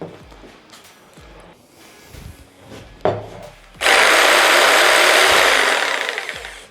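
A few scrapes and knocks, then an Assur six-speed electric jigsaw starts up loudly with a steady high buzzing whine that runs to the end.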